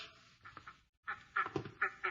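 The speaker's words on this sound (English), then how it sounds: "Here are the ducks." Ducks quack in a few nasal bursts, a short pair of calls, a brief pause, then a livelier run of quacks, close and clear in an old radio drama.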